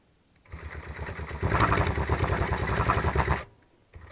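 A longarm quilting machine stitches in the ditch along black sashing on a log cabin quilt. It makes a close, rapid mechanical chatter that starts, grows louder midway, then stops after about three seconds.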